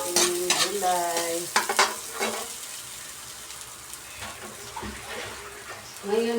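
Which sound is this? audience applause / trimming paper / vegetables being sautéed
vegetables being sautéed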